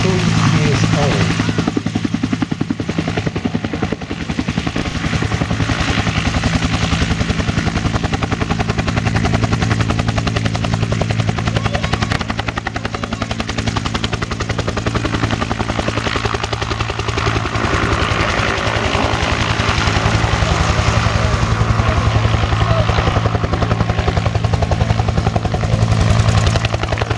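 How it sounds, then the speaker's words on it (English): A Bell UH-1 Huey helicopter, 43 years old, flies at the 2015 Barton airshow, its steady rotor thump and turbine drone holding loud and constant throughout under a background of crowd and voices. "This is the Huey helicopter."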